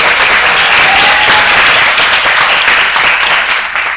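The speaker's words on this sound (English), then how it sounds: "let's give the graduates another round of applause." Steady, dense applause from a large crowd at a graduation ceremony, loud and continuous for the whole stretch, tapering slightly at the end.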